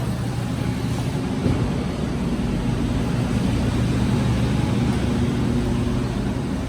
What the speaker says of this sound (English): There's a vehicle coming in right now.